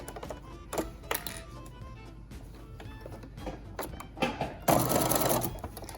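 A sewing machine stitches a fabric face mask and back stitches at the edge, running in short bursts and then a louder sustained run near the end, close and clear with no talk.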